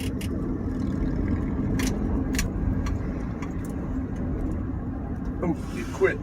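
A car fitted with a new carburetor coasts downhill toward gas pumps, its steady low rumble and road noise continuous throughout, with a few faint ticks and clicks near the end.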